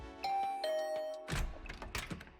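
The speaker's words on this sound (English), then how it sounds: "I'll ring the bell just in case." A door bell in the video game The Hundred Line sounds a two-tone chime, clear ringing tones that fade out and are followed by several soft clicks and taps.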